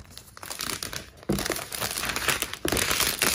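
Crinkling and rustling of packaging as a new rose gold 2020 MacBook Air is unboxed, with loud close crackles and a couple of sharper tears or pulls, no talking.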